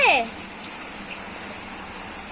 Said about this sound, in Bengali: দেখছো মা বৃষ্টি হচ্ছে